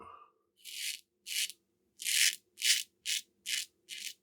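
Seven crisp, close scraping strokes of a double-edge safety razor cutting through stubble, each a short bristly rasp separated by brief silences, heard alone without any talking.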